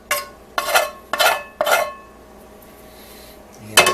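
Peanut butter protein bar mixture scraped and pressed into a pan, four firm scraping strokes in steady rhythm and then a final clank of a utensil against the pan.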